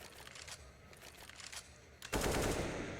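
Rifle gunfire in a Counter-Strike match, several quick muffled shots followed by a sudden loud burst of fire, close and sharp, with game ambience underneath.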